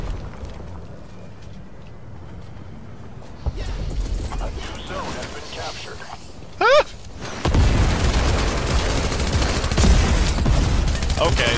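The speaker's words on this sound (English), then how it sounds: "Oh god, there's nades flying in." Heavy gunfire and explosions from grenades landing in a Fortnite match, with a loud sustained barrage in the second half, a short sharp burst before it and a voice talking under the fighting.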